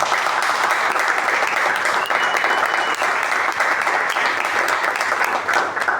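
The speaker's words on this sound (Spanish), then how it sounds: "Un aplauso, no todos los días lo hacemos." An audience applauds at a book presentation evening in a literature hall. The clapping is dense and continuous for the whole stretch at an even, fairly loud level.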